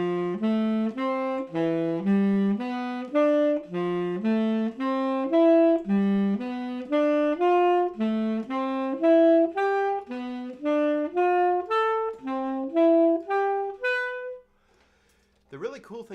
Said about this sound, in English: So it sounds like this when you arpeggiate it with an instrument like a saxophone.